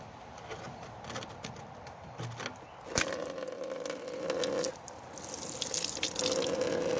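Old fuel draining from an opened valve on a generator fuel tank being cleaned, a continuous trickle and splash with scattered drips and metallic clinks, fairly faint and close.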